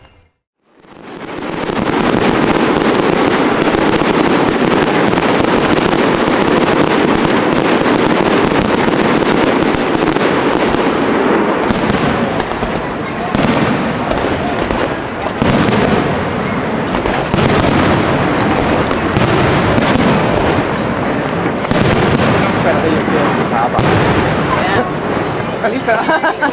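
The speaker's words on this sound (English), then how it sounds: "we got ourselves in position for the fireworks display" A festive winter fireworks display at Tivoli Gardens in Copenhagen crackles and booms without pause, dense overlapping bursts and pops filling the air loudly, with crowd murmur underneath.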